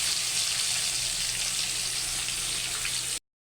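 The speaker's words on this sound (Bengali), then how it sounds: "তেলটা একটু বেশি দিয়েছি, তাই মাছগুলো সব একবারেই দিয়ে দিলাম।" Fish pieces frying in a generous amount of hot oil, a loud, dense, steady sizzle crackling close up for about three seconds before cutting off abruptly.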